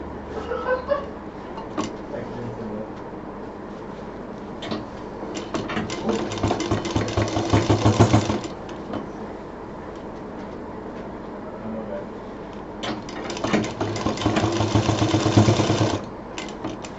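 A sewing machine stitches a fabric mixer cover, its loud rapid mechanical chatter running in two long bursts separated by a quieter pause, with faint handling noise between.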